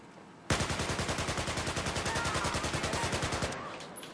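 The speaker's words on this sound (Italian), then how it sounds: "cos'è sto sparo?" A rapid burst of automatic gunfire in the video game Battlefield 4, dozens of evenly spaced loud shots over about three seconds, then stopping abruptly.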